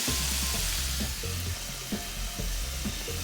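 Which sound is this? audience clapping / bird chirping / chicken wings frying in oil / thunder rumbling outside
chicken wings frying in oil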